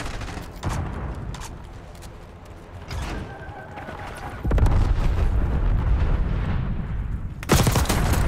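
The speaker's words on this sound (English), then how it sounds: "TACOM, deploying a bomb strike." Bomb strike explosions in the shooter game Call of Duty: Black Ops 6, with loud, sustained rumbling blasts that swell after a few seconds and a fresh heavy burst near the end, layered over continuous battle noise.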